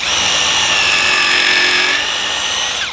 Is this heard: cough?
no